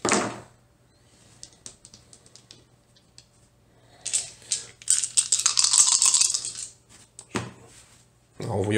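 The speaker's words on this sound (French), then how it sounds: "D'abord, on brasse les dés." Dice for the board game Troyes Dice rattle and clatter, shaken in a cup in a long burst, with a few scattered clicks before and after.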